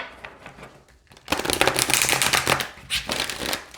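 A deck of oracle cards riffles in a quick, crisp shuffle after a quiet start, fluttering and close, then a second shorter burst.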